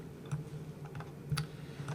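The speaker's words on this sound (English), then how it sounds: "Hit D on my delete on my keyboard to delete that." A computer keyboard clicks with a few light, quick key presses, faint and close, in a quiet room with no talking.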